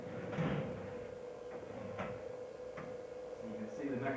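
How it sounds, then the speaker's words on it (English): Cabinet doors on a Violino Virtuoso automatic violin machine are swung open, giving a few soft wooden clunks and latch clicks over steady room hum, fairly close. "Let me open the doors."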